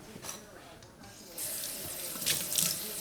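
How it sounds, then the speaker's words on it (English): Tap water runs over an item being rinsed at a kitchen sink while baking keto brownies, a quiet trickle that swells to a fuller, louder gush partway through. "I'm going to wash this off real quick like."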